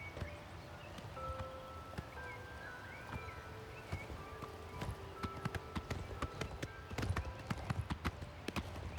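Horse hooves clip-clop steadily at a trot through a forest in the video game Oblivion Remastered, with rustling foliage and faint ambient game music behind the rhythmic footfalls.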